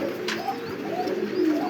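A pair of Kagzi pigeons feeds three chicks in a fancy-pigeon loft, soft low cooing and murmuring with a couple of quick higher squeaks from the young, close and moderately quiet, no voices.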